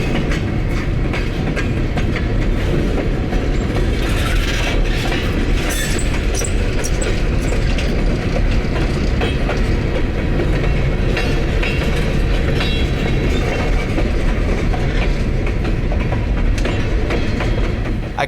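Freight train Z631, loaded with railroad ties, rolls past loud and near in the Shenandoah Valley around Goshen, a constant heavy rumble with clickety-clack wheel beats and faint squeals.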